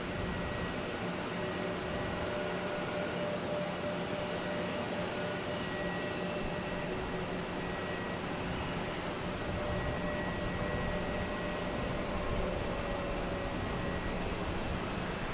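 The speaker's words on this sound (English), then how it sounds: "next to come in, we have JetBlue coming from Reagan in A220." A JetBlue Airbus A220 on Flight 1354 from Reagan comes in to land at Boston Logan Airport, its engines a steady, even roar that holds for the whole stretch with no voices.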